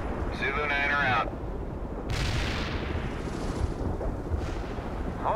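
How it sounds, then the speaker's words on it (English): Artillery fire in the World in Conflict strategy game, heavy booms and rumbling blasts layered over a constant low battle roar, with brief radio-style voice chatter near the start. "Perfect artillery hit"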